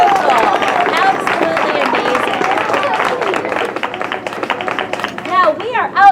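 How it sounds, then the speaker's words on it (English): A crowd applauds outdoors for the people who made tiles for a community mural, with dense sustained clapping mixed with cheers and chatter that swells again near the end. "How about a round of applause for all of you?"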